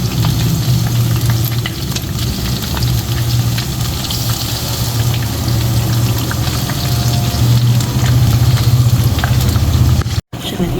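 Fish fingers fry in hot oil in a batch, producing a loud, continuous, close-up crackling sizzle with a low steady hum underneath and a brief dropout near the end; nobody speaks.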